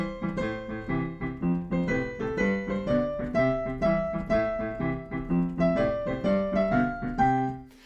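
Solo piano plays a familiar duet piece, with its repeating bass pattern and bright melody notes. The playing is clear, close and steady, and no one talks.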